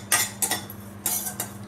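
Roasting cumin and coriander seeds are stirred in a hot, heavy-bottomed kadhai with a metal spoon, making four or five crisp scraping clinks in an uneven rhythm, close and clear with no talking.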